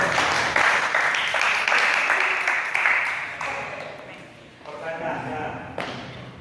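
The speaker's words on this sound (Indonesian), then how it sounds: "Tepuk tangan." Audience applause at a motivational talk on positive mental attitude, a broad, steady wash of clapping that fills the clip, thins briefly near the middle and then rises again.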